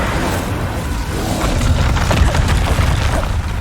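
A Bombarda blasting spell goes off in Hogwarts Legacy, a loud, dense booming burst that swells and rumbles on for several seconds amid game clutter, with no talking.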